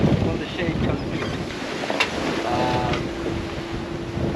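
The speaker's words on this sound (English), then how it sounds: "the wind is up again. It's around 20 knots." Wind of around 20 knots rushes over a 37-foot sailing yacht crossing the Pacific, a loud, steady roar buffeting the microphone with water sounds beneath and no talking.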